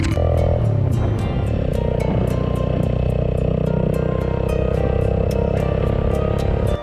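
A motorcycle rides a mountain road around Shimshal and Passu, giving a steady, loud engine drone with constant wind rush and faint regular ticking throughout, and no voices.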